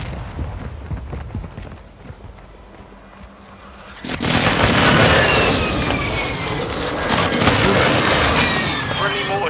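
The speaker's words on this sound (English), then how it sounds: "Friendly airstrike on the way." Airstrike explosions in Call of Duty Warzone 2: after a stretch of scattered shots, a sudden loud blast opens into a sustained roar of booming impacts and rumbling debris close by.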